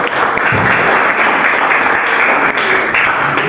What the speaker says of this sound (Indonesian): Ya betul, tepuk tangan ya.